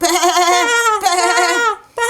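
A sheep bleats twice, loud and close: a long wavering bleat followed by a shorter one, heard alone.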